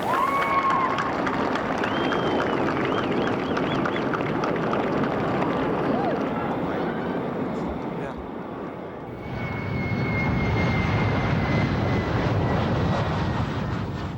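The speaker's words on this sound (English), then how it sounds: "seeing their new jumbo jet head off to Hawaii" Jumbo jet airliner departing for Hawaii from Phoenix, a loud sustained engine roar with whining tones that swells, dips briefly, then returns, mixed with radio talk between the crew and departure control.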